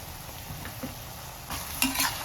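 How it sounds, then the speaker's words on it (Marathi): Tomato chutney being stirred in a pan, a soft low sizzle with light spoon scrapes that grow louder and brighter toward the end as the mixing picks up. "आणि आता छान मिक्स करून घ्यायचं."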